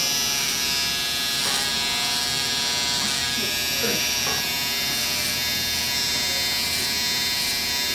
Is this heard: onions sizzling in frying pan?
no